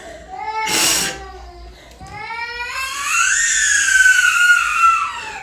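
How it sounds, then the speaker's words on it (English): A young child screams loudly in a household, sustained high-pitched shrieks with a brief break, rising into a long piercing wail close to the listener. "Man, that kid is screaming."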